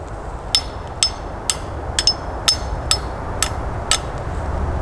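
A rubber-coated tree climbing stick knocks against a tree trunk in eight sharp, evenly spaced raps, each a short hollow clack over a steady low background hiss.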